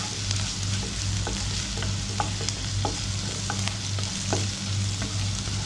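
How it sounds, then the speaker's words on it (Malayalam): Sliced onions sauté in a pan for an eggplant curry, a constant sizzle broken by repeated scraping strokes of a spoon stirring them, close and fairly loud. "ഇപ്പം നമ്മുടെ സവാള ഇത് വഴണ്ടു വന്നിട്ടുണ്ട്."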